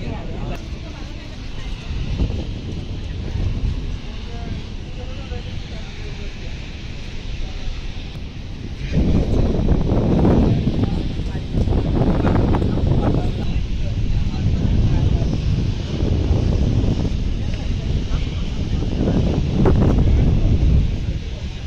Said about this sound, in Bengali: তো আমাদের লঞ্চটি এখন ডান দিকে কাটছে